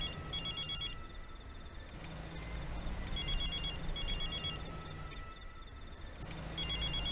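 A phone ringtone chirps in repeated bursts, each ring pattern separated by short pauses, fairly faint against a low background hum.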